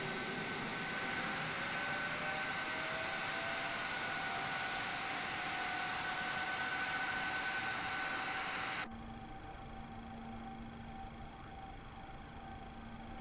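An IXEG Boeing 737 Classic Plus jet engine in the X-Plane 12 flight simulator hums steadily at idle with a high whine, then drops abruptly to a quieter, lower drone partway through, with no talking.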